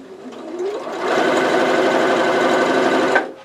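A sewing machine stitching straight down the centre of rickrack trim on a pillowcase baby dress, a close, loud, steady mechanical whirr that starts softly and runs continuously for a few seconds before stopping abruptly.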